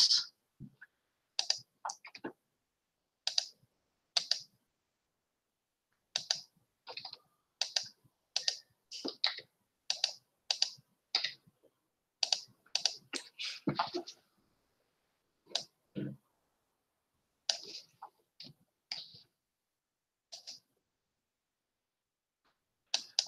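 A computer keyboard being typed on for a password, with quick clusters of sharp, close key clicks in irregular bursts separated by silent gaps, no voices.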